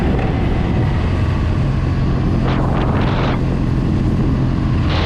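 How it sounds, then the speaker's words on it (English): While riding, a BMW R1200C motorcycle engine drones steadily under heavy wind buffeting, with gusts of roar surging through the constant loud noise. "This engine's pretty torquey. You don't need a real tall gear."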